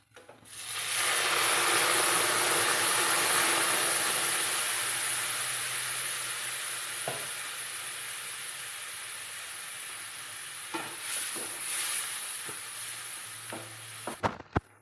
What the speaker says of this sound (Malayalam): ചൂടുവെള്ളം ഞാനിവിടെ തിളപ്പിച്ച് വെച്ചിട്ടുണ്ട്. അത് ഇതിലേക്ക് ഒഴിച്ചു കൊടുക്കാൻ പോവുകയാണ്